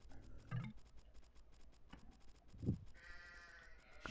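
Sheep bleating in a video game where a player herds the flock, with a few short, faint bleats spread across a quiet background and one louder call near the middle.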